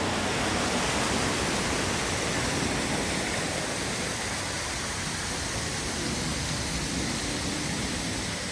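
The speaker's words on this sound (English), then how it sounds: "the water wasn't working, but you can hear it already. Yeah. The water is going." Running water from a fountain at a Washington DC monument, a steady broad rushing splash heard close and unbroken from start to finish, with no voices over it.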